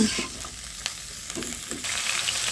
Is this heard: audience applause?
no